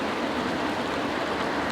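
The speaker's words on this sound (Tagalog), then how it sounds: "Salamat sa biyaya ng pag-ulan." Steady rain falls as a dense, even hiss that stays constant throughout, with no voices over it, heard during a rainy bike ride in Bagac, Bataan.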